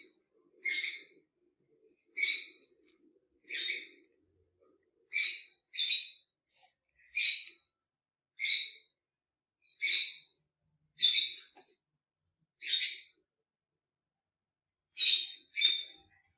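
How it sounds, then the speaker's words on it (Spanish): A small bird repeats a short, bright call about a dozen times at even intervals, each note clear and isolated against near silence, with faint low rustles between some calls. "Primera imagen, el pajarito."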